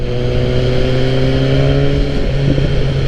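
Red BMW S1000R motorcycle engine, tuned, as the throttle is released, a loud close steady mechanical drone with a strong low harmonic tone that wavers slightly toward the end, no talking.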